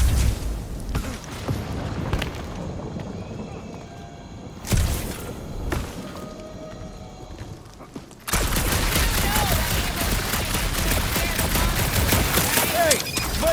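Gunfire in the Guardians of the Galaxy game, bursts of shots and mechanical clatter in a dark area, with a dense sustained volley in the second half and voices talking at times.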